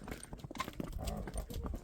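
Horses walk along at a farm, their hooves clip-clopping in an uneven, close rhythm of many soft thuds, with a faint voice in the background.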